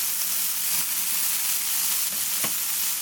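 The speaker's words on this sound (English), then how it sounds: "So once my saucepan is nice and hot, I'm going to go ahead and just add my bacon right into there." Bacon sizzles in a hot saucepan with a loud, continuous close frying crackle and a few soft stirring bumps.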